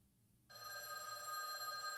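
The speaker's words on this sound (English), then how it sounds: "The phone rang." Telephone bell in a phone booth starts ringing abruptly after half a second of near silence, a steady bright metallic trill that continues evenly, faint and alone.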